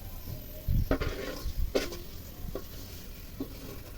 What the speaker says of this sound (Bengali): মিডিয়াম টু হাই ফ্লেমে আমি পেঁয়াজগুলোকে বেরেস্তা করে নিয়েছি এবার পুড়ে যাওয়ার আগে এগুলো এখান থেকে তুলে নিতে হবে